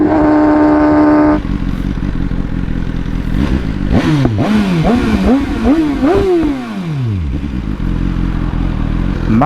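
BMW S1000R Pro motorcycle engine, loud and close: a steady high idle drone, then a run of sharp rising and falling revs with clatter, the engine settling into a low rumble.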